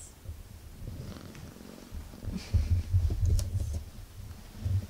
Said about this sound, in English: when she flops over and starts purring